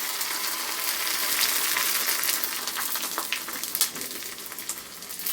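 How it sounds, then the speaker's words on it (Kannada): Homemade rice sandige frying in hot oil, a dense close bubbling sizzle with scattered crackles and pops, steady then slightly easing, no voices. "ನೋಡಿದ್ರಲ್ಲ ಎಷ್ಟು ಚೆನ್ನಾಗಿ ಫ್ರೈ ಆಗಿ ಬರುತ್ತೆ ಅಂತ"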